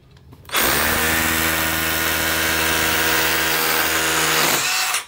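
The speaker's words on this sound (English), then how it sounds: "once again, we'll use the rotary hammer drill." A rotary hammer drill bores into brick or concrete with one steady, loud, close whine held for about four seconds, starting and stopping abruptly, with no talking.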